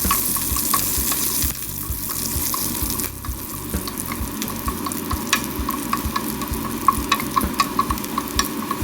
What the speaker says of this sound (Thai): คั่วจนใบมะกรูดหอมแห้ง